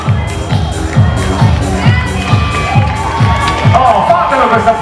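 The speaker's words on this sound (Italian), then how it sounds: "fatelo questo applauso, bello, quando vi accogliete, con questo entusiasmo, con questa energia" Finishers of the Comacchio half marathon are greeted by a loud, steady crowd cheering along with shouts and whoops. Rhythmic thumping beats run underneath the whole time.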